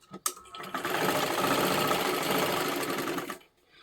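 A sewing machine runs in one continuous burst of about three seconds, stitching tucks in silky fabric. The whirring is close and steady, with a click as it starts and a quiet stop.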